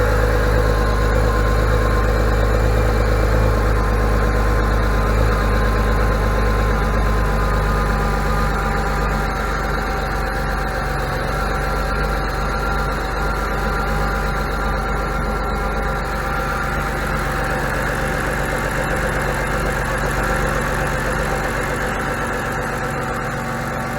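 A BMW N52 engine idles with its intake manifold removed, giving a steady, close, unbroken drone with a low rumble and tonal hum that holds evenly throughout, with no talking.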